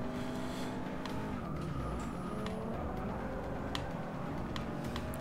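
A race car engine in the video game Forza Motorsport 6 drones steadily and loudly throughout, a continuous revving roar with shifting harmonic tones and no pauses.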